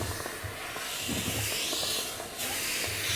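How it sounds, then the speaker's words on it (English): A garment steamer hisses steadily as steam is sprayed onto the back cover of a comic book during pressing, a continuous airy rush with a short break before resuming. "So as I do steam on the back cover inside and out, get some weight to it, it starts to flatten out."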